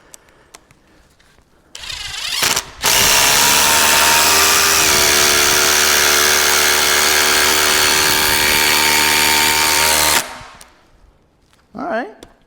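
A DeWalt 20V Max impact driver running on an 8 amp-hour XR battery drives a screw. It gives a loud, steady, close whirring buzz that lasts about seven seconds, with short bursts of tool noise just before and after.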